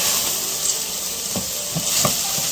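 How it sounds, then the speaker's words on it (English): Basmati rice stirred through sizzling olive oil with onions and garlic in a pan, a steady close frying hiss broken by a few soft scraping stir strokes, with no talking. "so now we're going to add in the rice. And then stir it around."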